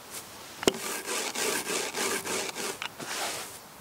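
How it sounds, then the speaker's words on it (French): Leek seed capsules crushed with a rolling pin, giving a steady run of dry, rasping rubbing and crunching strokes with one sharp knock near the start, close up and with no talk. "on écrase les capsules à l'aide d'un rouleau à pâtisserie"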